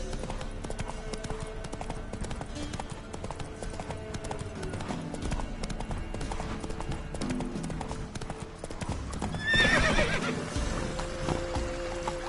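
Horse galloping in The Witcher 3: Wild Hunt, rapid steady hoofbeats close up, with a whinny near the end over game ambience and music.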